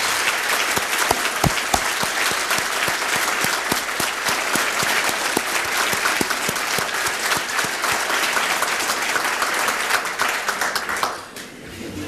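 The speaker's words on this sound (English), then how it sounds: "Would the 35-year members please stand while we applaud their accomplishments?" Audience at a 1991 P&H company service celebration applauds its 35-year members, dense steady clapping for about eleven seconds before tapering off sharply near the end.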